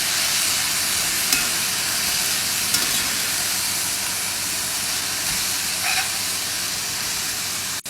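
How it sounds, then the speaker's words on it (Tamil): A pan of mint chutney ingredients sautéing all together gives a loud, continuous hissing sizzle that holds steady throughout, with a few faint utensil knocks and no speech. "எல்லாம் ஒரே டைமாக போட்டு வதக்கிடணும்."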